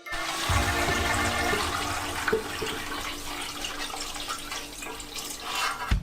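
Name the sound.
pouring fish broth through a strainer into a pot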